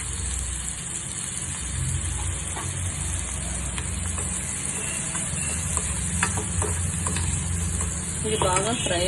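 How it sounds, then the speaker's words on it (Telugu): A prawn curry base with tamarind leaves and turmeric fries in a pan, giving a steady, dense sizzle throughout with a low rumble underneath and occasional stirring clicks. "అవసరమైన పసుపు వేసుకోవాలి. బాగా ఫ్రై చేయాలి."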